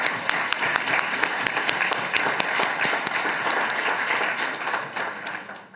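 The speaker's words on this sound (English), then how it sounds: "Please let us give them another round of applause" Round of applause at a social justice conference's closing session, dense sustained clapping from a sizable audience that stays steady for several seconds, then gently tapers at the end.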